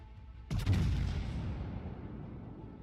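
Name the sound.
battleship main guns firing in video game World of Warships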